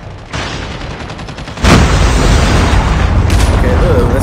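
A grenade goes off in a first-person video game shooter, a loud, sustained booming blast that swells suddenly partway through and rumbles on amid game noise.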